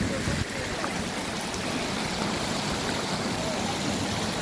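Water pouring over the spillway of the Araras reservoir in Ceará, a dense, continuous rushing roar that holds steady and loud throughout.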